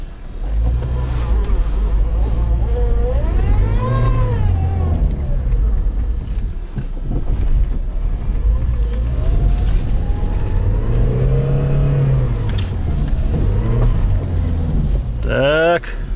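A Lada Niva 4x4 driving off-road, its engine droning and rising and falling in pitch as it revs, heard close and loud throughout, with people talking over the motor at times.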